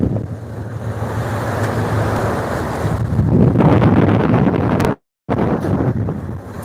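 Heavy wind and large sea waves batter a boat crossing the Bay of Bengal, a loud, steady roar with buffeting surges and a brief dropout near the end.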